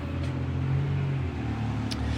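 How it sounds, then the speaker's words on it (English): A steady low rumble of passing vehicles outdoors, one car droning nearby with faint background noise. "Sorry about the noise. Again, I'm outside, so you're going to hear traffic,"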